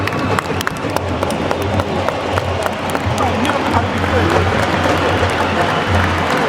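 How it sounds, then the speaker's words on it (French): Senegalese supporters applauding in a stadium at the end of an Africa Cup of Nations match against DR Congo: dense, steady clapping and crowd noise filling the whole stretch, with a commentator's voice talking over it. "Les Sénégalais applaudissent"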